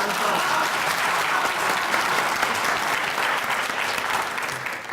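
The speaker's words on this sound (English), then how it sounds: "can you just wave and then they'll give you a round of applause" At a university debate at UKZN Westville, a crowd gives sustained applause for an introduced guest, a thick, even wash of many hands clapping from start to finish with no voices.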